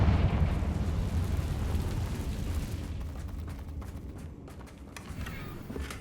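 A Confringo blasting spell in Hogwarts Legacy goes off as a rumbling explosion that is loudest at the onset and then tapers into a low, fading roar with scattered debris clatter.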